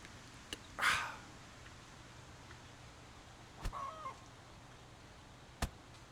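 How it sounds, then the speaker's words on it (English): A chicken clucks in the online game Legends of Aria, a short squawking burst followed by a few softer clucks, faint against quiet background with scattered clicks. "Poor chicken. It sounds like somebody's making dinner over there."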